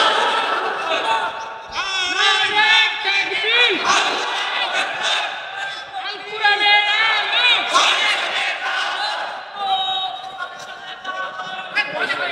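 Mosque congregation crowd shouting a religious slogan together in loud, repeated call-and-response bursts of many voices, sustained throughout with a lead voice rising between the crowd shouts.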